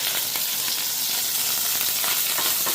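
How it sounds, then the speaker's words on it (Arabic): Pieces of liver fry in a little oil in a pan, giving a loud, steady close sizzle that crackles evenly throughout with no voices. "وهنزل بقى كده بالقطع اللي نديها بقى كده تشويحه"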